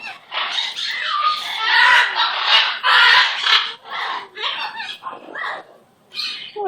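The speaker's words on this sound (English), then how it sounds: "What a nice little bird you are." Romie, a pet bird, lets out a run of loud, close squawks and chattering calls in quick, uneven bursts separated by brief pauses, with no one speaking over them.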